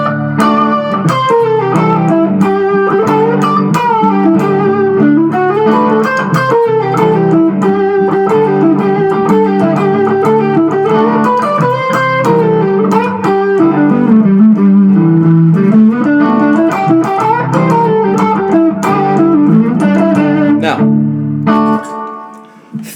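Electric guitar played with distortion, improvising a solo over a song with sustained bending melodic lines, loud and continuous, ending abruptly near the close.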